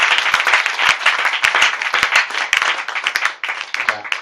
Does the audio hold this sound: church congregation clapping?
yes